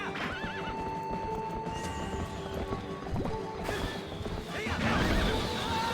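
A horse whinnies and neighs over clip-clopping hooves, then a thudding crash as it goes down, all set against busy game sounds in Zelda: Twilight Princess HD.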